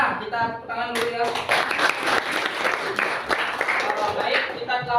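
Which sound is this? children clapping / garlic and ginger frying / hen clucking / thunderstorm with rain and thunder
children clapping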